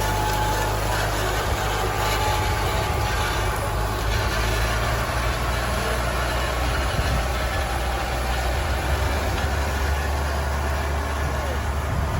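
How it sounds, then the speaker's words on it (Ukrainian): A tractor pulling a Saturn seeding complex while sowing rapeseed drives back across the field, its heavy diesel engine a steady, loud, unbroken drone with wind buffeting the microphone throughout. "повертається трактор назад."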